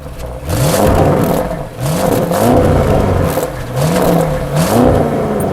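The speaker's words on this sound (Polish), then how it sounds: "Audi w tym samochodzie na pewno zrobiło coś z wydechem, bo jak na absolutną serię brzmi naprawdę dobrze" Exhaust of a standard-production Audi car revving repeatedly, the engine note rising and falling in several loud, close bursts over a steady engine drone.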